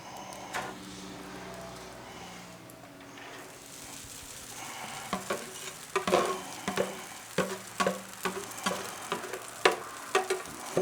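Chicken fried rice frying on a Blackstone griddle, a soft steady sizzle joined by sharp, repeated scraping clacks of a spatula stirring and tossing the rice.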